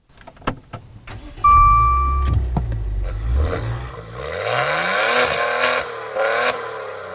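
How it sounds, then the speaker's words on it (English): A Maserati Levante S's Ferrari-built V6 engine starts with a whir and catches, then revs up loudly in a few rising bursts before settling. "It is a Ferrari-sourced V6 after all."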